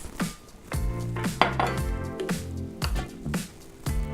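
Dry brown sugar, plain flour, desiccated coconut and rolled oats being mixed in a bowl for ANZAC biscuits, heard as a run of scraping clatters and knocks of a utensil against the bowl, close and fairly loud, with no talking.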